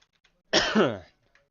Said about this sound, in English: I will stop coughing here momentarily